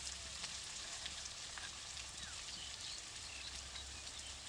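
Potatoes fried until reddish-brown with spices in a pan for a village-style fish curry, a steady soft sizzle and crackle that stays fairly quiet throughout, with no one speaking.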